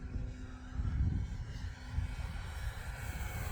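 E-flite P-51D Mustang 1.5m electric RC warbird flying at about half throttle, a steady motor and propeller drone passing at moderate distance with a fairly even level throughout, no voices.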